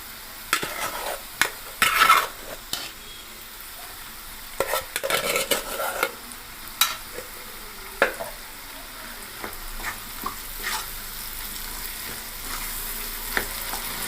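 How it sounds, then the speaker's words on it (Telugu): Onions frying in a pan for puri masala while they are stirred: a cluster of loud spoon scrapes and clatters near the start, then sporadic stirring strokes over a softer continuous sizzle, with no speech. "ఇప్పుడు ఉల్లిగడ్డలు వేసుకుంటున్నాను దీంట్లో."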